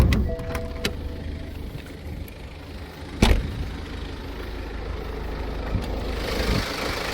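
A BMW diesel engine idling with a steady low rumble, with a sharp clunk or door-like knock partway through and faint clicks around it.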